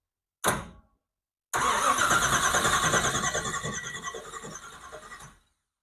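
A starter motor whirs briefly, pauses, then a 1974 Chevrolet Nova 350 V8 engine cranks and catches, running loud and steady before cutting off.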